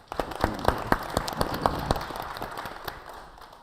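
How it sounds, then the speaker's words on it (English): A small audience claps at a committee on government operations and facilities, distinct individual claps rising quickly, then thinning and fading out within a few seconds. "Let's give her a round of applause."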